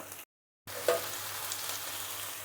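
Onion, ginger, garlic and spices fry for a chicken curry, a close, continuous sizzle after a brief silent gap at the start, with no talking.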